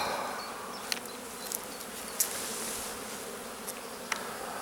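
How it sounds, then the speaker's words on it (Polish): A dense, steady buzzing of many honeybees around hives fills the air, close and continuous, with occasional faint clicks and no talking. "Pszczół mnóstwo."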